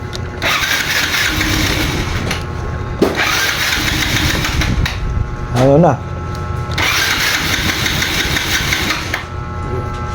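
A Yamaha Mio Sporty scooter engine that keeps stalling cranks and catches repeatedly, revving in bursts with short pauses between attempts; a voice speaks briefly midway.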